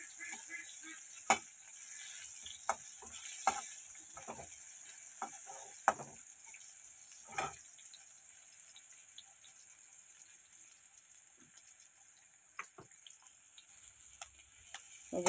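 Bitter gourd slices fry quietly in a pan with a soft, faint sizzle, broken by a scattering of sharp clicks and scrapes as the pieces are stirred.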